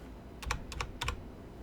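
Computer keyboard keys clicking in a few quick paired bursts, close and fairly quiet over faint background hiss, with no talking.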